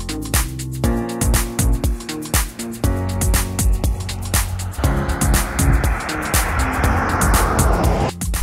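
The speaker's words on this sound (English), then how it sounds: "Coming near us. Ooh, Snare's driving off" A car pulls away on a road trip through the UAE, its engine rising as it drives off, loud and close with rhythmic thumps and road noise, then a broad rushing wash as it gains speed.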